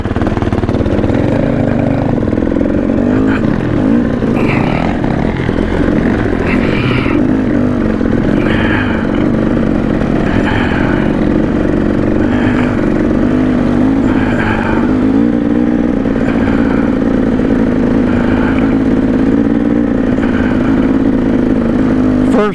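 A 2022 Yamaha YZ450FX and a 2014 KTM 300XC dirt bike ride a muddy downhill trail at Payson Canyon in first gear, engines droning loud and steady with continuous throttle changes and no talk.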